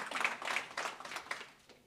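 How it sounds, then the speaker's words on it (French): Audience applause after a talk on roses, a short burst of dense clapping from a seated crowd that is loud at first and then thins and fades over about two seconds. "Vous pouvez l'applaudir."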